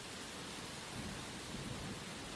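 Steady rain falls as a sound effect in an animated Hindi moral story, a dense, even hiss of water with no breaks and no voices.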